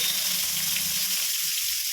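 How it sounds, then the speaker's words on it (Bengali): Pointed gourd (potol) frying in oil in a pan gives a steady, close, bright hiss and sizzle that carries evenly throughout. "দেখাচ্ছি পটল ভাজা প্রায় হয়ে যাচ্ছে।"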